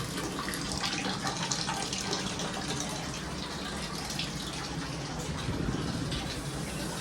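Hot water for a bath runs steadily from a tap into a tub, a constant splashing rush that never lets up.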